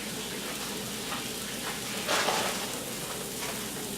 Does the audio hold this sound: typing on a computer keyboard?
no